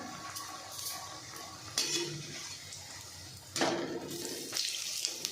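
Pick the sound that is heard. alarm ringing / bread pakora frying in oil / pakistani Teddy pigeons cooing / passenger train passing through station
bread pakora frying in oil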